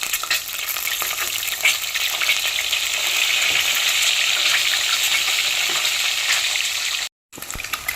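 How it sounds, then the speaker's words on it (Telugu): Eggs frying in plenty of hot oil with a pinch of turmeric, a loud steady crackling sizzle that runs continuously, broken by a brief dropout near the end. "ఎగ్స్ కొంచెం ఆయిల్లో వేపాలన్నమాట"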